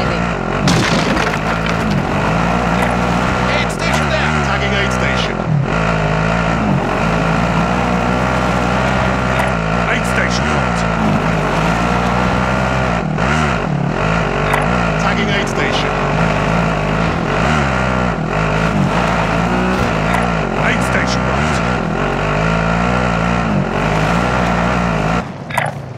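A car driven in Call of Duty: Modern Warfare, its steady engine drone loud and continuous throughout, with rising and falling revs, while voices talk over it.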